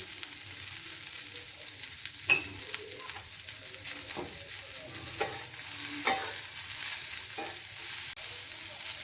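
Finely chopped onions and green chillies fry in a pan before going into beaten eggs for an omelette: a steady, soft sizzle broken by a few sharp spatula taps and scrapes, nearby, no talking.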